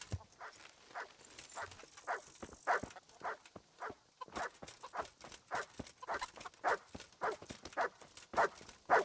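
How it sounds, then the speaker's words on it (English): A dog in the medieval video game Kingdom Come: Deliverance barks repeatedly in a steady series of short, sharp yaps, moderately close, with no talking. "What are we barking at?"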